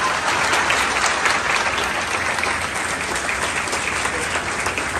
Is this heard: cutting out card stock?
no